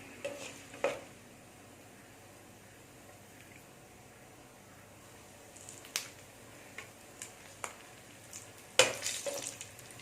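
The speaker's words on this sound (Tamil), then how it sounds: "முந்திரி பருப்பு ஃப்ரை ஆயிடுச்சு" Cashew nuts frying in a pan for vada curry: a quiet low sizzle with scattered sharp clicks and spoon taps against the pan, busier toward the end.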